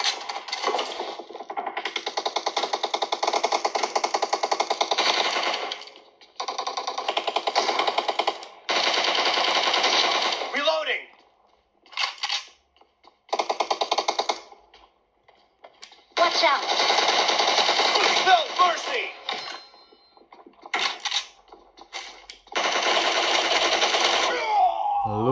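PUBG Mobile gunfire plays on a Xiaomi Redmi Note 10 Pro: long bursts of rapid automatic fire split by short gaps and single clicks, loud and close.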